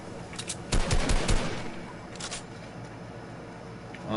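Gunfire in a Fortnite match, with bursts of rapid shots early on and a shorter volley later, heard close over faint background game noise.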